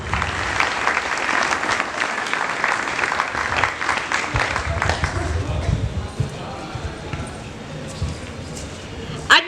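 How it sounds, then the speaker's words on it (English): Applause from an audience at a school Independence Day programme, steady clapping for about six seconds before fading into quieter room noise, with some speech-like sound mixed in. "Let's welcome them with a big round of applause."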